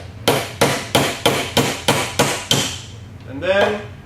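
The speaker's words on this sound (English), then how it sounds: "put our axle cap on top, start with a few gentle taps," Seven evenly spaced hammer taps ring out close by in a steady rhythm, followed by a brief voice at the end.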